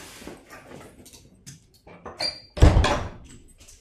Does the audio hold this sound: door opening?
yes